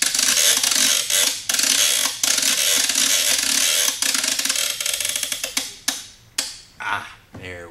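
A steampunk Jarrett machine being closed up and cranked, giving a loud, dense mechanical clatter of rapid ratcheting ticks that breaks into separate clanks and then slows near the end.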